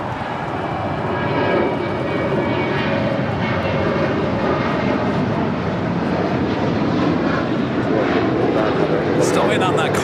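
An airliner takes off from runway 25 right at LAX with a loud, sustained engine roar that builds slightly and holds steady, heard from nearby at the airport.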